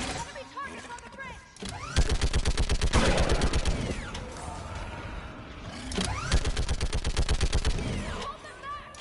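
Mounted gun in Mass Effect 3 firing at enemy targets on a bridge: long bursts of rapid, loud automatic fire in two main volleys separated by a brief lull, with shouted voices and battle noise around them.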